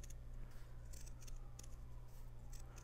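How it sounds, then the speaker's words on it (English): Scissors trimming the edges of a fabric filter for a 3D printed facemask, a run of quick small snips close by over a low steady hum, no talk. "Just gonna trim around the edges here. Try not to cut any stitches."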